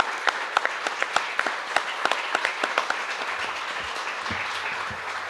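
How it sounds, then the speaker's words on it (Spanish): An audience applauds two guests at the close of a panel discussion on justice. Steady, dense clapping carries on for about five seconds and gradually thins toward the end. "tenemos que darle un aplauso a nuestros dos invitados"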